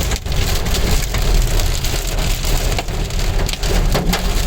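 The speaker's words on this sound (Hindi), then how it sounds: "ये आवाज ओलों की है। टक टक शुरू हो गई।" Hailstones hammer a car roof in a heavy June rainstorm, a loud, dense and unbroken clatter of hard impacts close overhead with rain roaring underneath.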